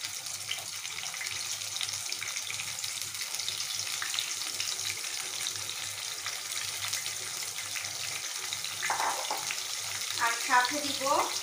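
Spices frying in oil left over from browned fried onions for hilsa fish pilaf, a steady faint sizzle with water-like crackle throughout, a few brighter spits near the end.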